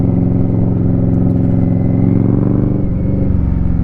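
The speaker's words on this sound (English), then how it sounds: "these exhausts are way more manageable. They still sound really deep, real throaty" Indian Scout Rogue motorcycle fitted with an RCX exhaust, idling with a deep, throaty rumble that stays loud and steady up close, with a slight shift in pulse toward the end and no talking.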